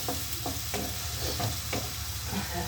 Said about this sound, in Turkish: Evet soğan kavruluyor.